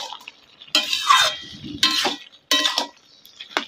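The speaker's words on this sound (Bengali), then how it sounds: "দিয়ে একটু নেড়ে দেব" A spoon stirs mixed vegetables with ginger, cumin and coriander paste and a little water in a pot, making several short scraping, clinking bursts up close with quiet gaps between, no talking.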